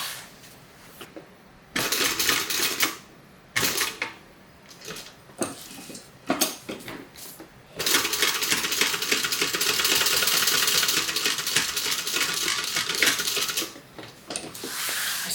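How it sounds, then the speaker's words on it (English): A sewing machine runs an eighth-inch seam across a waterproof canvas divider of a crossbody bag, starting in short stop-start bursts, then stitching steadily for several seconds close by, with no talk. "now we're just going to stitch an 1/8 of an inch seam allowance right across this divider"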